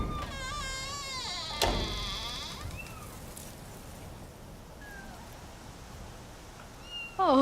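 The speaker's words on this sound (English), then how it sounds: "Oh, it's kitties." Little kittens in a horror drama scene mew repeatedly in high, wavering cries, loudest in the first two seconds, then quieter chirps trail off before one last mew at the end; no one speaks.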